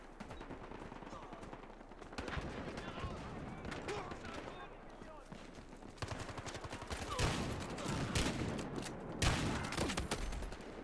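Heavy automatic gunfire and shotgun blasts fill a Battlefield Hardline firefight, dense and continuous, with bursts of rapid fire layered under someone talking in German.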